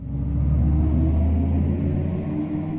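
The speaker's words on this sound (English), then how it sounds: "you can also listen to the artificial sound outside the car" Artificial exterior sound of an electric SUV, a steady low synthetic hum and rumble heard from outside the car, continuous and fairly loud with slight swells in pitch throughout.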